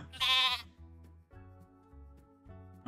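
A sheep in the VR farming game Across The Valley lets out one loud bleat, followed by quieter game background tones.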